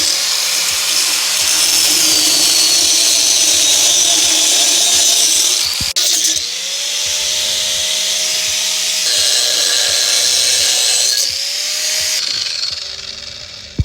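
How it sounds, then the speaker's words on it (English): Grinding wheel cuts through a rusted exhaust muffler pipe on a G35, a loud continuous high-pitched whine that dips briefly and restarts, with pitch shifting as the wheel bites into the metal, running close up and alone. "Off with the grinding wheel."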